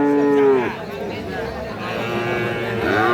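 Calves at a cattle market moo loudly and close, with one long low moo at the start and another rising near the end, amid busy crowd chatter and talk.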